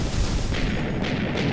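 Explosions in a Minecraft Murder Mystery game session form a dense, continuous roar of booming blasts, loud and close, running through the whole moment with no talk over it.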